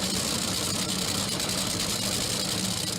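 A drag racing car engine idles steadily, a dense continuous rumble with a rough, knocking texture that holds at an even loudness throughout, with no voices.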